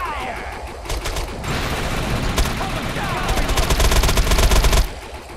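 Gunfire in the video game Defiance, heavy sustained bursts of automatic shots for several seconds, loud and dense, ending abruptly.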